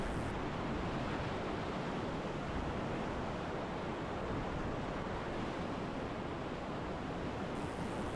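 Rushing rapid on the Middle Fork of the Salmon River at low flow while rowing, a steady, loud, broadband roar of churning water that continues unbroken with no voices.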